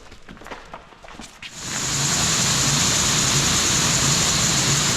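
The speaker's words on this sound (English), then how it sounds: "it is still very muddy, as you can see, and kind of currently raining / sprinkling as we talk" Rain sprinkling outdoors over a muddy farm field, starting as faint scattered patter and then swelling into a loud, steady, broadband hiss that fills the rest of the stretch.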